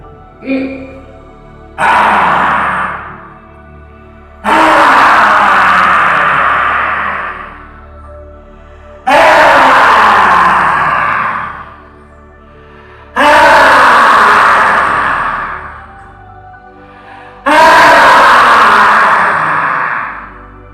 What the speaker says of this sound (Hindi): इस सिंहनाद को भी आप कर सकते हैं